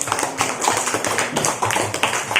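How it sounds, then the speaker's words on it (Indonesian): A classroom group claps hands in a short burst of quick, fairly close claps with an uneven rhythm, ending after a few seconds. "Bagus, tepuk tangan untuk"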